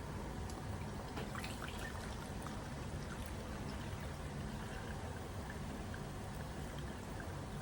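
Apple scrap vinegar pours into a jar in a continuous trickling, splashing stream, close and fairly quiet, with no talking.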